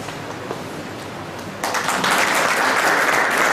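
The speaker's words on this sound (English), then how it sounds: "A round of applause." A lecture audience breaks into steady, full-room applause partway through, rising from a quieter murmur into sustained clapping during a felicitation of team members.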